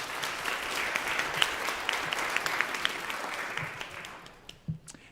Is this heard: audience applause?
yes